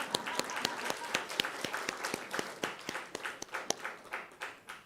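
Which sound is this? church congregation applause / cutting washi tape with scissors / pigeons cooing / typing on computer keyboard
church congregation applause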